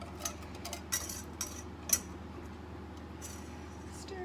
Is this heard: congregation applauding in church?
no